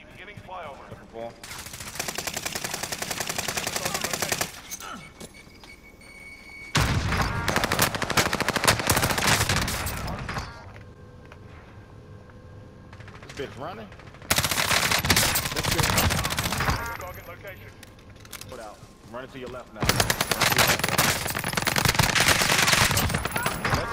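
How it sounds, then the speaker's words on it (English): Rapid machine-gun fire in a graveyard-themed video game comes in long, loud automatic bursts with quieter gaps between them. A few bursts run for several seconds each. "I'm getting shot in the back."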